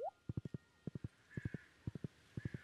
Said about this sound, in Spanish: Vamos a aprovechar nuestro caballo de la suerte.